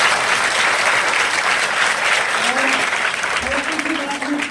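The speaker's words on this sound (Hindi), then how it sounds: "एक बार और तालियां बजाएं।" Steady audience applause at a school campaign event, a continuous, fairly loud wash of clapping from a crowd, with a faint voice emerging near the end.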